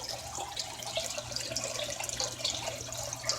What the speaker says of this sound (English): in both tanks, the water never stops flowing, causing the fish tanks to constantly overflow